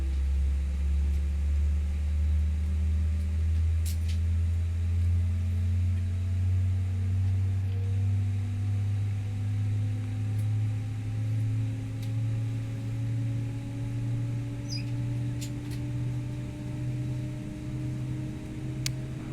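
Airbus A319 with CFM engines in a flight simulator, a steady loud whine and hum with slowly rising tones, sustained and unbroken with faint clicks over the top.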